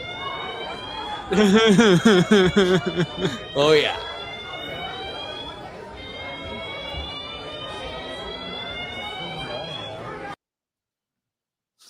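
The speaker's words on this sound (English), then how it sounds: "Someone pulled the fire alarm." A fire alarm goes off in a movie theater, sounding as a steady, loud repeating tone with crowd noise and shouting near the start, while people talk briefly over it before it cuts out.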